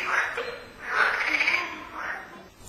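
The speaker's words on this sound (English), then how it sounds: "The frogs are hard to spot, but they break out with such a din that we can't doubt their presence." Frogs croak near the waterfalls of a river walk in Metulla, their rasping calls swelling in a few loud bursts, close and continuous.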